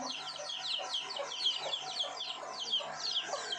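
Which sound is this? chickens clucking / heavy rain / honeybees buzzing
chickens clucking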